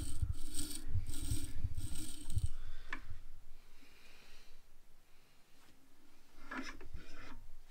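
A blade is sharpened on a Tormek T4 sharpener: a rasping, rubbing grind in a few close strokes early on, then quieter scrapes and small clicks of adjustment, with no talking.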